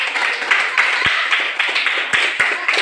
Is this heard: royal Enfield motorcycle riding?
no